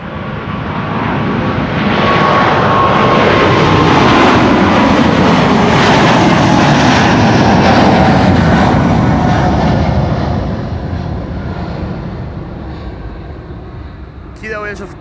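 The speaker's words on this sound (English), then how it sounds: "KLM flight 751 on its way to Quito" A KLM airliner bound for Quito takes off from Schiphol runway 24, its loud engine roar rising quickly and holding for several seconds, then receding into a fading rumble before a short rattling noise at the end.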